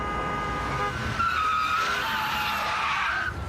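A car brakes hard and its tires squeal and skid in a radio advert effect, one long rising screech with engine noise beneath that fades out at the end, with nobody speaking.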